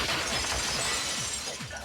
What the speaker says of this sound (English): Why did it shatter with more ferocity that time?